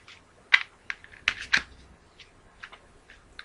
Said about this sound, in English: I'm just going to carry on shuffling